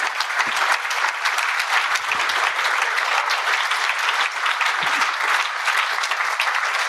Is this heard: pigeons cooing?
no